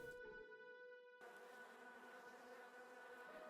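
Insect buzzing of bees in a Christmas-themed video game, a steady close drone over harmonic game music that swells into a denser buzz after the first second and holds throughout.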